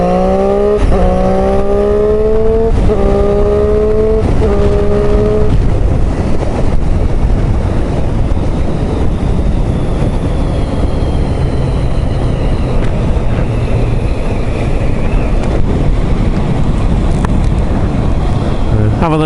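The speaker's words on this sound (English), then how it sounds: "Right, let's go up through the box. We're not going to use the clutch at all." A Triumph Street Triple 675 motorcycle engine climbs through several quick clutchless upshifts in the first five seconds, each rev rising then dropping, before giving way to a steady roar of wind and road noise.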